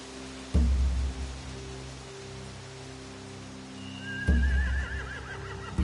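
Horses neigh in The Walking Dead video game with two loud snorting whinnies a few seconds apart, alongside a thin whistling tone and a steady rain-like background.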